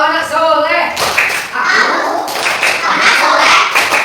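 Children perform the rhythmic tepuk anak soleh clapping chant in a classroom, sharp claps and taps landing in patterned bursts while their voices chant along.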